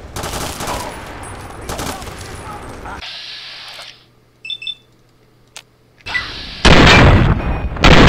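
Gunfire in Fallout 3: dense, loud shooting fills the first few seconds, a quiet stretch with faint electronic beeps follows, then heavy gunfire bursts return, louder and closer.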